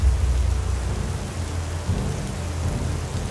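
Steady rain in a cartoon pours down with a low rumble like distant thunder underneath, a constant wash of noise with no voices.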